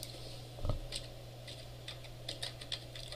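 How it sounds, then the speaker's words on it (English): Keys tapped on a computer keyboard in a quiet room, a sparse run of soft clicks with one louder thump early on, faint and close. "So now, in the browser, I go and type in localhost"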